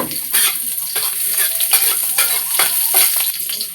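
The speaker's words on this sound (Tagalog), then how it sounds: "So ato na ilunod ang lamas. Ahos lang ni og sibuyas atong lamas guys." Garlic and onion sauté in an oiled pan for ampalaya with egg, giving a steady close sizzle broken by repeated utensil scrapes and stirs, with no talking.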